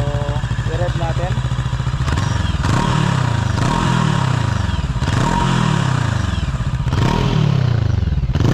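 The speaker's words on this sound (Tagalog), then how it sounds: "So yan ang tunog ng Express 500 Racer ng FKM." An FKM Express 500 Racer motorcycle engine idles nearby and is revved in several sharp throttle blips that rise and fall back, loud and close, with brief talk early on.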